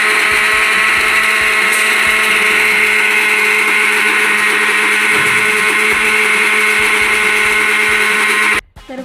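Electric grinder finely grinding neem leaves for homemade soap, a loud, steady high-pitched motor whine running continuously before cutting off abruptly near the end.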